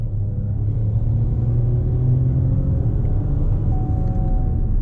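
An MG Astor 1.4 turbo petrol car accelerates at full throttle, its engine a loud, steady low rumble with a faintly rising tone, heard from inside the car without talk.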